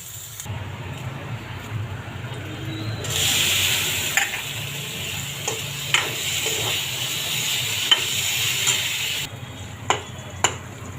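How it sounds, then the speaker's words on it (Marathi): Onion with a few pieces of chilli and ginger fries in two spoons of oil for a shark fish curry, giving a steady close sizzle with occasional spoon scrapes and clinks against the pan. "दोन चमचे तेलावर कांदा भाजत टाकला हे दोन तीन मिरचीचे तुकडे आणि दोन तीन आल्याचे तुकडे कांदा लालसर होईपर्यंत भाजून घेतो"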